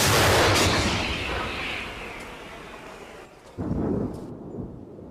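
A powerful artillery gun boom at the start rolls off into a long fading rumble, followed by a second, softer distant blast, on a front line in Ukraine.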